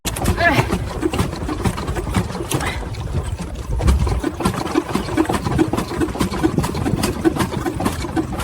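A steam-powered mechanical walker works a rice field, its boiler chugging and hissing in a steady, loud, continuous mechanical drone with an engine-like rumble, heard close under people's voices.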